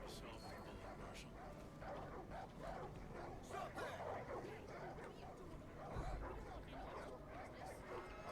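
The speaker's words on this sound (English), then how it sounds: "There's a lot of angry doggos." Angry dogs barking and yipping in the video game Far Cry 5, a steady distant-sounding chorus of barks mixed under game ambience and faint voices.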